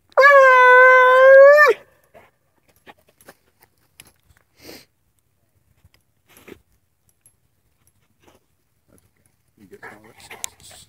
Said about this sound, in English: Opened the back hatch and Diesel's just hollering away.